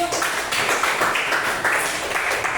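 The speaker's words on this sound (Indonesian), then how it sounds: "tepuk tangan" Classroom of students clapping their hands together in a short, fairly loud burst of uneven claps, with some faint voices mixed in.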